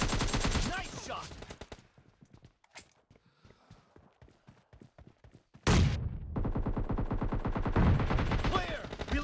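Rapid gunfire from the mobile shooter PUBG Lite in a warehouse area comes in dense loud bursts, then a quieter stretch of sparse clicks and steps before heavy sustained firing returns.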